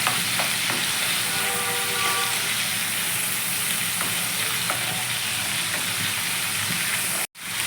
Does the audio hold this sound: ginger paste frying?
yes